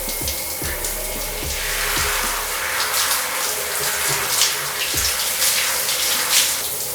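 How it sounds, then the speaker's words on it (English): Water from a home shower runs in a steady, broadband rush that stays even throughout, with a few soft low knocks early on and no voices. "turn the water on to warm as you normally do"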